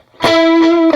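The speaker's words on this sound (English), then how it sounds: "you can hear the delays are a lot more present, even though we haven't turned the mix up" A sustained electric guitar note runs through a Line 6 Helix delay with the high cut removed, bright, distorted and loud, with a repeat swelling in near the end of the brief phrase.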